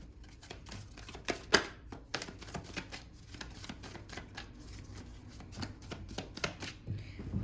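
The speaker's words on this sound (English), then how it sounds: "I'll shuffle one more" Tarot cards being shuffled by hand, a close, quiet run of crisp riffling flutters and soft taps, irregular in rhythm with a few sharper snaps.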